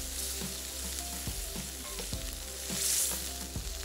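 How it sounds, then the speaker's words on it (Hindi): Spinach stir-frying in a hot pan, with a steady loud sizzle and repeated scraping stirs at a regular rhythm, close up and with no talk. "मिक्सिंग करके भुनाई करनी है"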